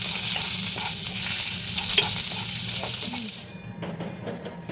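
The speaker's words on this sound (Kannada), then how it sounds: "ಇನ್ನು ಇದಕ್ಕೆ ಕರಿಬೇವು, ಅದ ಫ್ಲೇಮಲ್ಲಿ ಇಟ್ಟು ಫ್ರೈ ಮಾಡಿ." Curry leaves frying in a pan over a flame while making Mangalore-style biscuit rotti, a loud, dense sizzle with light stirring scrapes, close by, easing off slightly near the end.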